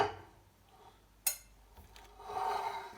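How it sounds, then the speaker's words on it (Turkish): A sharp metallic clank of a pot being set down, surrounded by quieter scraping and rubbing of cookware, close by with no talking. "tenceremi getirdim. Hazırladığım sıvıyı açıyorum kapağını yavaşça."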